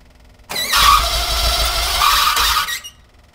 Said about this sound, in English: What makes a Volkswagen screech?